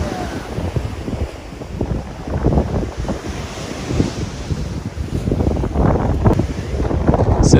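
Strong wind buffets the microphone over rough surf crashing on a beach near the southern tip of Argentina, a loud, continuous roar with no voices.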